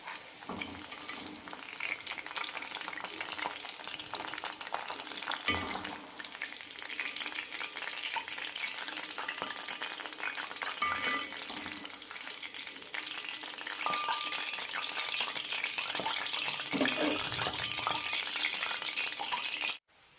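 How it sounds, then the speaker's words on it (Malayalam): Raw banana slices deep-fry in hot oil for a banana mixture snack, giving a steady close sizzle with occasional stirring rattles and no talk, ending abruptly. "വാഴയ്ക്ക് മുരിയുമ്പോൾ പതയെല്ലാം അടങ്ങും"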